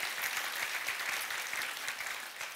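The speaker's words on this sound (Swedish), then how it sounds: "det är värt en applåd," Audience at a lecture on brain research and alcohol addiction treatment breaking into applause, a dense steady patter of many hands clapping, moderately loud and sustained for a few seconds with no talk over it.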